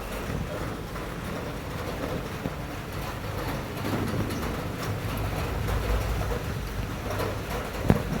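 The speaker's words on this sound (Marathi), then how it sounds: "मस्त असं रात्रीपासून पाऊस चालू आहे." Rain falls steadily outdoors as a soft, even wash that stays moderately faint throughout, with a small knock near the end and no talking.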